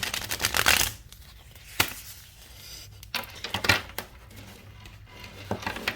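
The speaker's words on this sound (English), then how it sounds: "I'm going to shuffle it and then get 3 cards for a collective message." Tarot cards being shuffled up close in several quick riffling bursts, each a crisp flutter followed by a pause, with a sharp tap or two between them.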